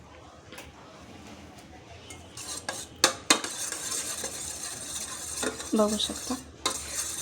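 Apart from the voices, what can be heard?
stirring curd, oil and ghee together in a bowl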